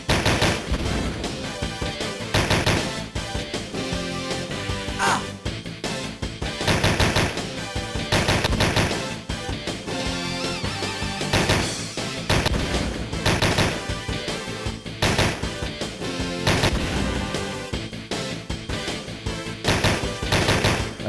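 Rapid, dense gunfire from shooting enemies in a Sega CD video game, loud bursts of shots repeating almost without pause, layered over a busy game soundtrack, no talking.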